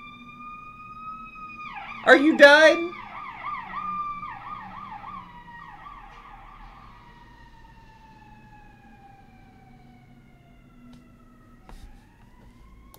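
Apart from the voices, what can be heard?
sirens in The Sims 4 video game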